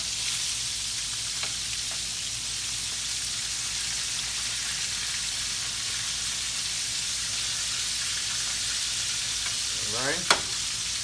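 Catfish fries in hot oil, a steady, dense sizzle that fills the whole stretch, with a brief scrape and clatter near the end as a piece is turned over.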